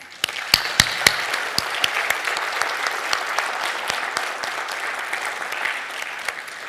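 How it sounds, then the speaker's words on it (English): Audience at an awards evening applauding the winners: dense, sustained clapping from a large crowd with a few sharp, close claps standing out at the start, steady and loud throughout. "we should give everyone another big round of applause"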